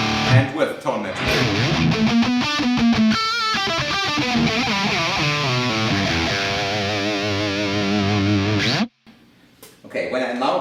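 Distorted electric guitar played through an Axe-FX II modeler with tone matching applied, a sustained chordal riff ringing loudly for about nine seconds before cutting off to near silence, with a little quieter noise at the end.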